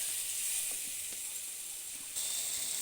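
Ground cumin, chilli and turmeric fry with onion and tomato in a pan for a lote fish curry, giving a steady, close sizzling hiss that runs through the clip and brightens slightly near the end.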